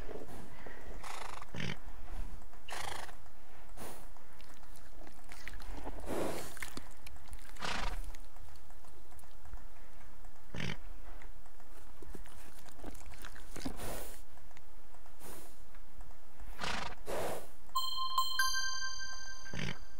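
Horse sounds from the video game Mein Pferd: repeated hoof clip-clops and neighs recur in bursts across a quiet stable backdrop, with a few brief electronic chimes near the end.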